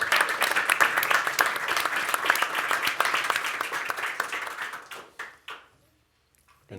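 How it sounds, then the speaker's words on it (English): An audience at an industry conference session applauds the panelists, a full steady round of clapping that tapers off into a few last claps and then quiet. "I think we can give them a big applause."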